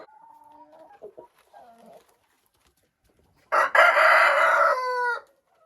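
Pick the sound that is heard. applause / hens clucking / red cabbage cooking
hens clucking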